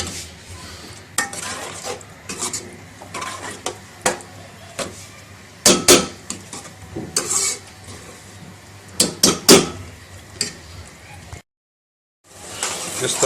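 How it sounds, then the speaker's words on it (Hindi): Urad dal being roasted in a spice masala in a pan, with a steady run of metal spoon scrapes and clanks against the pan over a faint sizzle. "अभी हम इस दाल को इस मसाले में भूनेंगे।"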